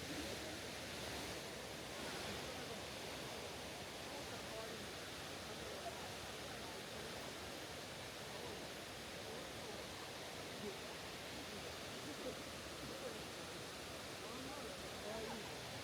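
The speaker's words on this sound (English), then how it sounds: "All that water you can see cascading from the rocks" Continuous, even rushing of water at Shiraito Falls, fed by Mount Fuji snowmelt, pours over rocks and splashes in a dense broadband roar, steady throughout with no pauses.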